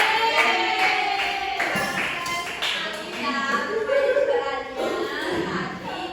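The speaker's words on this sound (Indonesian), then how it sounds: "Tepuk tangan untuk kelompok Y." A class of students claps for a group, giving steady, dense applause throughout, with voices mixed in underneath.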